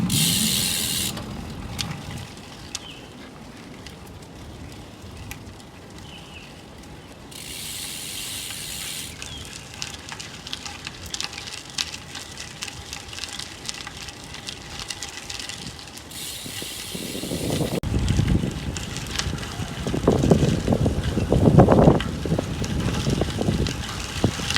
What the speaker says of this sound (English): So I've just had my first ride on the RideNow TPU Tubes